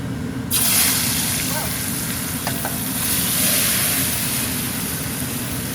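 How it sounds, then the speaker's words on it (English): Peppers and onions drop into hot oil in a pot and fry for a few seconds, breaking into a sudden, loud, crackling sizzle that holds steady throughout, heard up close. "drop the peppers and onions for 5 seconds in the oil and then take them right back out"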